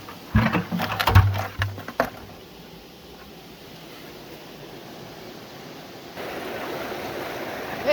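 Steady broadband rush of creek water flowing at a gold prospecting spot, continuous and moderately close, with a few louder knocks and thumps near the start before the flow settles into an even wash.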